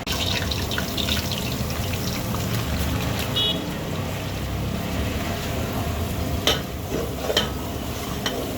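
Semolina roasts in half a kilo of Dalda for restaurant-style suji halwa, with continuous close scraping and stirring over a low, steady sizzle and a few sharper knocks near the end.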